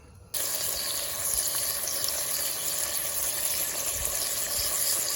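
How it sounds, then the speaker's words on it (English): Bacon tossed into a pot over a campfire sizzles and crackles, starting abruptly and holding a loud, steady hiss throughout. "We're tossing our bacon in there so we can get a good fat base."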